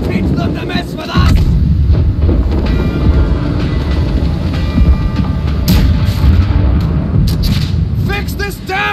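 Ship cannons booming in a Blackwake naval battle, heavy low blasts rolling over continuous loud gunfire and battle noise with shouting voices mixed in.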